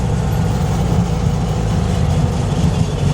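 A 1965 VW Beetle transaxle runs steadily, a continuous low mechanical drone with a dense grinding, metal-on-metal rumble, close and unbroken, with no talking.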